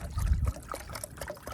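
Water dumped from a container into a pot for cowboy coffee outdoors in the snow, a short gurgling pour that splashes at first, then trickles off into small drips.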